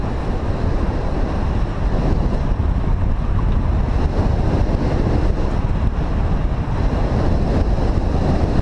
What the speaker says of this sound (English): Quite a headwind today